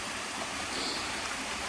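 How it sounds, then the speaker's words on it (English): The waterfall at Telford Town Park rushes and splashes in a steady, even wash of water noise, close by and uninterrupted. "The waterfall."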